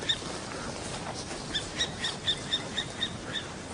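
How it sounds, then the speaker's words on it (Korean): A long-tailed Ural owl calls in a Norwegian forest, a run of short, faint, high hoots repeating at a steady pace over a constant background hiss. "새소리가 들린다."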